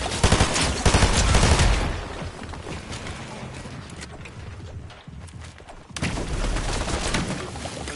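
Video game gunfire: loud shot bursts at the start taper into quieter scattered shots, then a heavy volley returns near the end.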